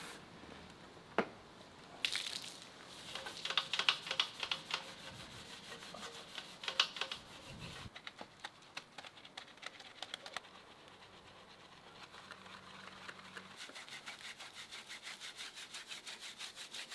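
Brushes scrub the rims of a BMW M2 during a detailing wash, giving rough, repeated rubbing and scraping strokes that come in bursts and pauses, fairly close, with no talking.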